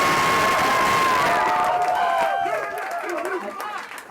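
A concert crowd at a show in Melbourne cheers loudly with whoops and shouts, then the noise gradually fades.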